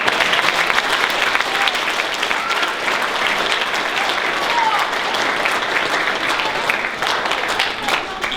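A large audience at a school presentation day ceremony gives an award recipient loud, sustained applause that fills the hall for the whole stretch, with a voice faintly under it.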